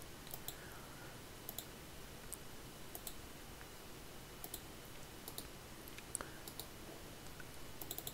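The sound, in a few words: computer mouse clicking while using CREO CAD software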